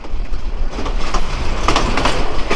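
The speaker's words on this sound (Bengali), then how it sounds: "আমাদের ট্রেনটি প্ল্যাটফর্মে প্রবেশ করলো" The Balaka Commuter train rolls into Gafargaon railway station in Bangladesh with rhythmic clickety-clack of wheels and occasional squeals, loud and close, no talking.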